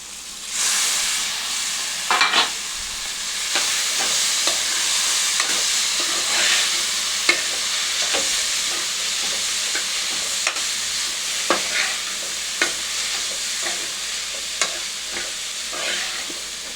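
Homemade wheat flour noodles are tossed with sauces in a hot pan, giving a continuous loud sizzle and hiss broken by irregular scraping and stirring clatters from the utensil.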